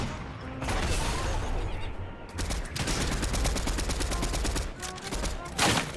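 Dense bursts of automatic gunfire in Fortnite, several rapid volleys with short gaps between them, loud and close, with some talk mixed in.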